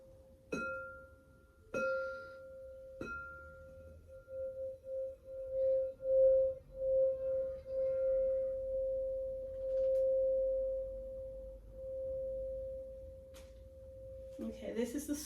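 A small sound bowl rings out with a pure, sustained tone after a few sharp strikes, its hum swelling and fading in slow waves as it is circled, close and quiet, until a brief clatter at the end.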